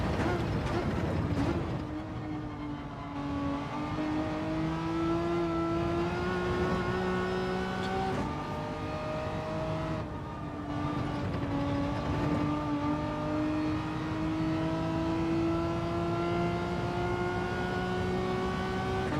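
A Subaru races in a Gran Turismo 7 time trial, its engine note holding a steady, sustained drone that rises in pitch through the gears, with brief dips at two shifts and no talk over it.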